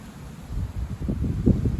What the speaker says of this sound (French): Il y a du vent quand même.